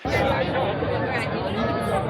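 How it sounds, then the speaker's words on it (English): Dense outdoor crowd chatter from a long line of people waiting to get into a One Piece card event, a steady babble of many overlapping voices close by. "As I show you the crowds here, it's unbelievable. It almost looks like an LA Marathon crowd."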